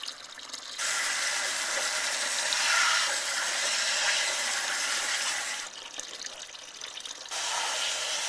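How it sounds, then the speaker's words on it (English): Water squirts in a steady hissing spray into the tubes of a Ford Model A radiator being rodded out, with a short drop in flow partway through before the spray resumes, close and continuous. "I'm squirting it right on top of the tube."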